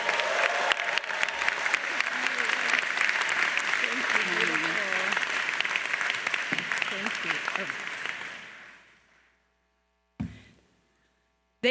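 Loud, sustained applause from a large graduation audience welcoming a commencement speaker at the Stanford Graduate School of Business, continuing steadily for about eight seconds before fading out, followed by brief bumps and a short silence.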